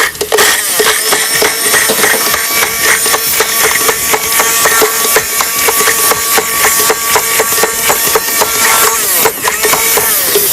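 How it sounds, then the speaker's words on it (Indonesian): Black pepper and nutmeg are ground by hand into a tofu seasoning paste, with loud, close, steady scraping and rhythmic knocking that continues without pause and without speech. "Kemudian kita akan haluskan semuanya untuk bumbu tahu kita."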